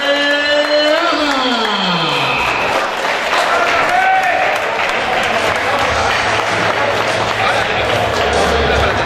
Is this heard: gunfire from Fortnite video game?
no